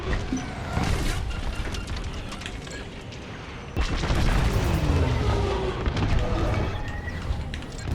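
Explosions boom as a Corvette is hit in the space combat game Star Wars Squadrons, dense rumbling blasts layered over constant loud battle noise, with a heavier burst near the middle.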